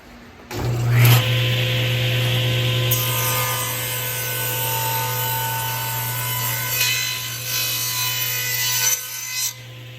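A handsaw cuts steadily through an oak board held in a clamp, a loud continuous rasping of strokes that runs close and alone for several seconds before easing off.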